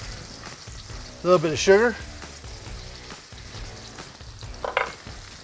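Garlic and red chili fry in a pan with a steady, close sizzle throughout, while a person talks briefly over it.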